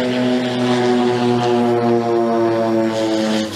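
Propeller airplane flying low overhead beside an airport, a steady loud droning engine hum with strong harmonic tones holding for several seconds, alone with no talk.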